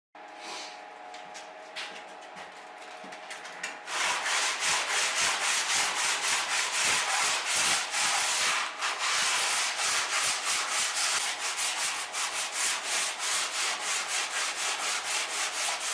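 Close, rhythmic rasping of sandpaper working over a painted surface on a sailboat, quieter at first, then loud, fast back-and-forth strokes continuing steadily to the end.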